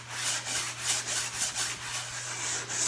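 A sanding block with sandpaper glued on rubs back and forth over wooden roof framing of a truck camper tiny house build, giving steady close, rhythmic scratchy strokes.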